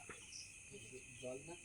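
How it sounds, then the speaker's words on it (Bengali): Crickets chirping at night in a flooded town, a faint steady high trill with a few soft scattered calls beneath, distant and quiet. "ঝিঝি পোকার ঝিনঝিন আওয়াজ করছে"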